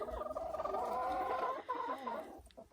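A silkie chicken, a fluffy backyard bird, makes soft, close, continuous murmuring clucks and low burbling calls in a quiet, warm indoor pen.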